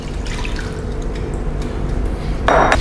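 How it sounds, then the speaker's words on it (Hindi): Water is poured into a pan while making rolled fondant cookie icing, giving a steady close splashing rush that swells near the end with a brief clink of the container. "मैं पानी डाल दिया,"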